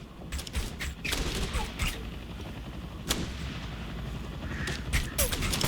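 Enemy gunfire in Operation Flashpoint: Red River, with sharp rifle cracks popping at irregular intervals, some near and some farther off, over a steady low battlefield rumble.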